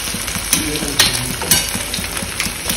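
Three beaten eggs sizzling in a pan for egg bhurji over a gas flame, with a steady frying hiss and regular spatula scrapes and taps about every half second.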